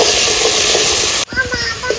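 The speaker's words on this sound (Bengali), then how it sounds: "আগে এই লবণটা দিয়ে আমি কষাচ্ছি, টমেটোর গন্ধটা যাতে থাকে" Onion, tomato and spices with salt being stirred and sautéed in a pan for pomfret fish curry, a steady broad sizzle that cuts off abruptly midway, followed by quieter scraping stirs.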